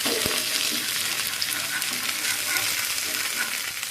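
Turmeric and chili powder fry in hot oil in a pan while being stirred, giving a steady, loud, close sizzle with scraping stir sounds running through it.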